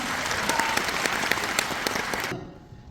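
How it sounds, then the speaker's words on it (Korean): An audience at a traditional arts event claps in a full, even round of applause that cuts off sharply near the end, leaving only faint room tone. "큰 박수 부탁드립니다"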